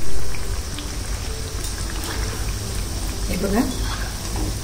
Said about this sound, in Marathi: आता उलट पलट करून या व्यवस्थित छान खरपूस तळून घ्यायचे